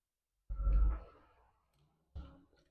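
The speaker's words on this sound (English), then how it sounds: "long neck lighter to get the bubbles off." Two short bursts of clicking and hiss from a long-neck lighter, the first longer and louder, the second briefly after a pause, close by.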